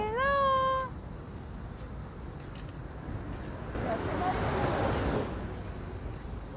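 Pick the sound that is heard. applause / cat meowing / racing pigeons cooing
cat meowing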